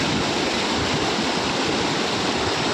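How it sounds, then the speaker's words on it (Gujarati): A river running after a flood, fast water rushing in an even, dense roar close by, unbroken for the whole stretch. "સરસ મજાનું પાણી હેલું જાય છે"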